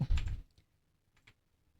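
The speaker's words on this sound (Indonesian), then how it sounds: "Saya akan ketik 1, 2, 3" A few quick clicks on a computer keyboard while entering numbers into an Excel spreadsheet: a louder burst of keystrokes at first, then faint scattered taps.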